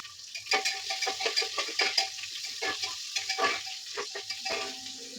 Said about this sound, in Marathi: त्या सर्वात आधी कांदा भाजून घेऊया